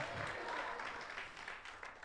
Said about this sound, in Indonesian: Berikan tepuk tangan lebih lagi, teriakan haleluya.